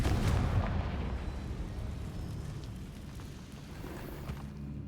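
Confringo fire blast spell exploding in Hogwarts Legacy, a booming burst at the start that rumbles and crackles away into a fading roar; no talking.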